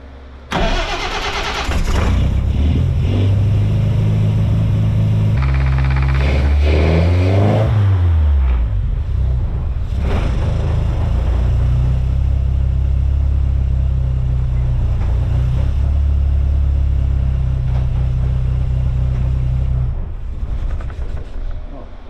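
A car engine, apparently with a fuel leak, cranks and catches, then revs up and down loudly close by before settling into a steady, rough idle.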